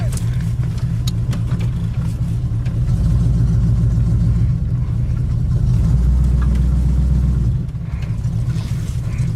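A 1974 Chevy Nova with a 350 V8 rumbles from inside the car while driving, its exhaust droning low and steady, swelling as it accelerates, then easing back off.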